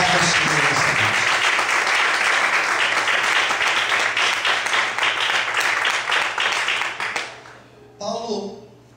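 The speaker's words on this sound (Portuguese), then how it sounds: "Você pode desocupar a sua mão e aplaudir e exaltar ao Senhor nessa noite." Congregation at an evening worship service applauding in praise: dense, loud, sustained clapping from many hands for about seven seconds, then tapering off quickly, with a voice speaking briefly at the end.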